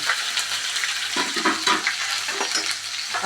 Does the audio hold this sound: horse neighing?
no